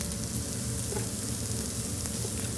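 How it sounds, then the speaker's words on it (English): Pancetta frying in a pan alongside sausages for classic French cooking, a steady close crackling sizzle with continuous dense spitting and no talk. "now we're going to put in our pancetta"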